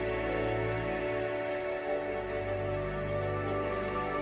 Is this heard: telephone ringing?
no